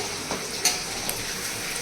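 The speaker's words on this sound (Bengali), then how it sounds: "এই জন্য একটু ঘন ঘন নাড়া হচ্ছে।" Food stirred often in a large wok as it starts sticking to the bottom, giving a constant frying sizzle with a few scraping clinks of the spoon against the pan.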